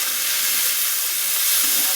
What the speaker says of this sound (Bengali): এবার একটু এগুলো ভাজা ভাজা হবে।